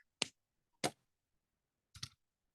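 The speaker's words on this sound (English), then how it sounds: "Cutter tool to trim off." Three sharp, separate snips of a wire cutter trimming jewelry wire while wire-wrapping beaded holiday earrings, close and crisp with silence between them.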